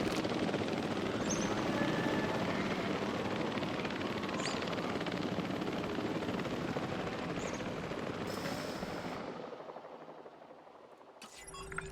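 Helicopter in the Jurassic World Evolution 3 video game carrying out an airlift, a steady loud rotor roar with a few faint metallic clicks, fading out near the end.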